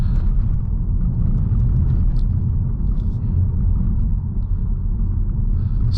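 Steady low engine and road rumble inside a 2023 Mazda 3 Turbo Hatchback on the move, a constant loud drone with little variation.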